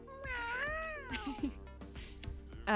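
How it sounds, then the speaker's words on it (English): Cat meowing in a room during a conversation, a long drawn-out rising and falling meow followed by shorter calls and another at the end, close and clear with no talk over it. "Just assume there's always a cat in the background of every scene."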